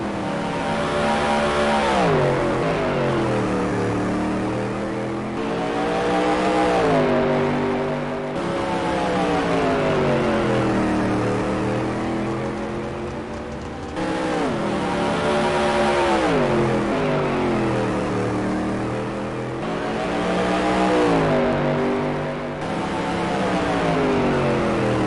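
Supermodified race cars roar around Mesa Marin Raceway during the Billy Vukovich III Classic 100, their loud engines rising and falling in repeated waves as the pack laps past.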